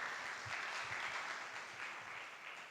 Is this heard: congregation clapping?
yes